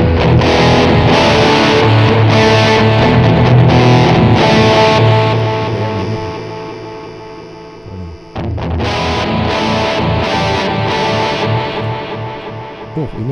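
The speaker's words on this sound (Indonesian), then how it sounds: "Sekarang kita cari yang distorsi deh." Electric guitar runs through a distortion patch on a Vox SL2G multi-effects unit, loud saturated strummed chords ringing and sustaining, with a brief dip and pause before heavy playing resumes, no voices.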